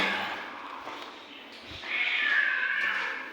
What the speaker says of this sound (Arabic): بص خناقة قطط مدمرين بعض فوق